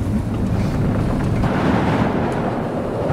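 Icy wind blowing at the top of the Turning Torso skyscraper in Sweden, a steady, loud buffeting roar across the microphone with gusty low rumble and no talk.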